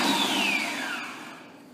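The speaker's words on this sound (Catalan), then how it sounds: "I triturem amb turbo." A kitchen blender on turbo purées asparagus cream with a loud, close whir whose pitch slides downward. It runs alone for under two seconds and fades as it winds down.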